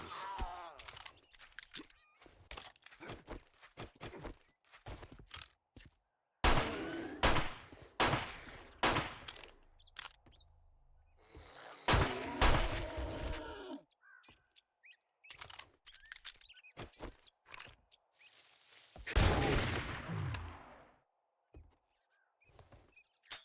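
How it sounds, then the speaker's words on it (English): Repeated loud shotgun blasts in the video game 7 Days to Die, sharp broadband bursts fired in irregular clusters with brief gaps, close and punchy, interspersed with other game noises. "Shotguns are very loud."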